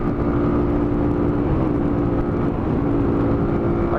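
A motorcycle engine accelerating in top gear drones loud and close, a steady throaty hum laced with wind rush that holds almost level across the whole stretch.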